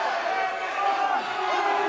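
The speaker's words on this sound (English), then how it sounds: "This crowd rallying behind Jastin Taylor." A wrestling crowd roars for Jastin Taylor during his match against Eddie Martinez. The cheering is a steady, dense wash of crowd noise with a commentator talking over it throughout.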